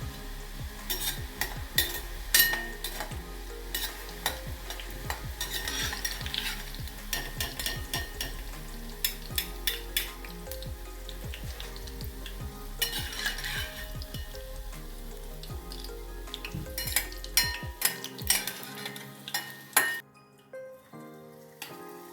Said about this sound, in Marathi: अशा प्रकारे बुंदी करायची तयार करायची प्रमाणे पाडून घ्यायचे